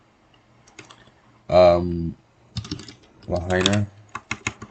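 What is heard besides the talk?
typing city names on a computer keyboard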